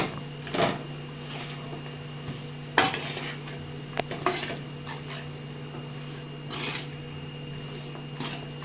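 A spoon stirs soya chunks and cashews through vegetable biryani in a pot, giving a few scattered scraping clinks and soft knocks against the metal with quiet gaps between them.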